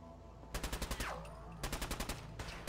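Bursts of rapid automatic gunfire from the player's weapon in Fallout 4, two loud rhythmic volleys separated by a brief pause, with a sweeping laser-like whine between them and no talk.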